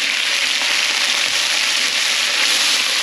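Loud, steady sizzling fills a hot pan as sauce is poured over frying vegetables for potato lo mein, a continuous close crackle and hiss with no speech.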